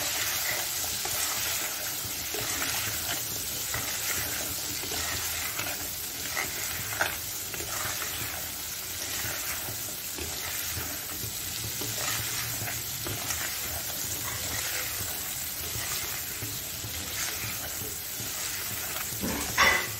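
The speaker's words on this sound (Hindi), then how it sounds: "साथ ही डाल देंगे दोनों आलू और बैगन दोनों भी अब अच्छा भून लेंगे सभी चीज़ों को" Potatoes and eggplant sizzle steadily in a hot pan while being stirred, a continuous close frying hiss with scraping stirs throughout, no talking.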